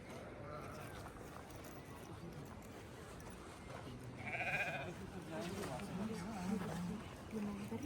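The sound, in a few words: sheep and goats bleating on mountain trek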